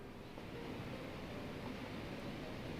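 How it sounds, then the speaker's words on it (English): Steady, dense rushing of a waterfall in Shenmue II, a continuous wash of falling water heard alone at an even level with no pauses or talk. "It definitely sounds like a waterfall"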